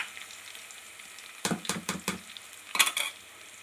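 Onion paste frying in a pan while making a pickle dish, soft sizzling underneath a few quick bursts of stirring and scraping, then a clink of utensils against the pan.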